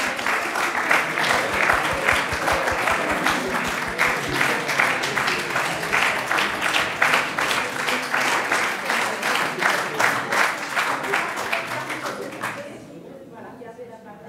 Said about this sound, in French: on peut applaudir quand même parce que ça fait une belle brochette de lauréats quand même